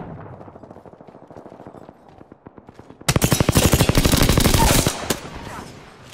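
Rapid automatic gunfire in the Apex Legends battle royale shooter, a quiet stretch of steady close bursts that erupts into a loud, dense volley for about two seconds before fading.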